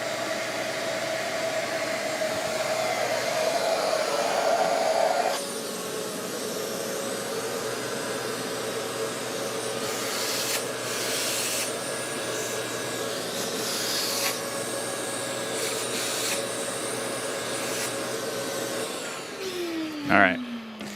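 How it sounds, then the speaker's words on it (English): A vacuum cleaner runs over a workshop surface during thin veneer inlay work with a Shaper Origin, a steady whining hiss throughout with shifting tone and a brief clunk near the end. "It's going to be a lot of excess vacuuming today because I want to try to keep this surface clean."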